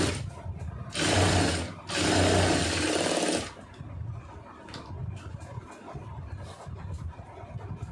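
A sewing machine stitches a blouse lining hem in two short, loud bursts with a brief pause between them, followed by quieter handling noises.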